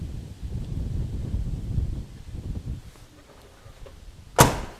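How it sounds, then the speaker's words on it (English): A 1974 Mercury door shuts once with a single sharp, solid slam near the end, after a stretch of soft rustling and low rumble around the car. "Great door closure sounds."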